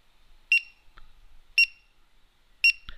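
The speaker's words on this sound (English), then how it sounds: "those beeps you're hearing are now coming from my iTag device" A Bluetooth iTag tracker beeps after losing its connection, giving three short, sharp electronic chirps about a second apart, clear and close in an otherwise quiet room.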